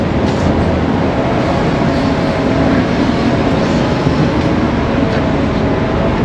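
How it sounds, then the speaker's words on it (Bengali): City bus on Route 992 to San Diego Airport pulls up to a stop, its loud, steady engine rumble and road noise filling the whole stretch close by without a pause. "আমাদের বাস চলে এসেছি।"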